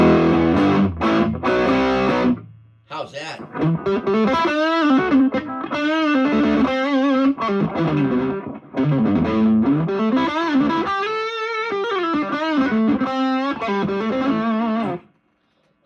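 A crunchy, distorted electric guitar through the crunch channel of a Hotone Nano Legacy Captain Sunset 5W solid-state amp head, no reverb or effects, plays chords and melodic lines, loud and dry, with a brief pause partway through before the riffing resumes.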